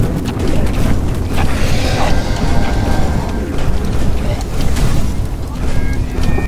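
Bomb blast on a bridge in Choo Choo Charles: a sustained, roaring low rumble of explosion and debris fills the whole stretch, loud and steady with no clear separate bursts.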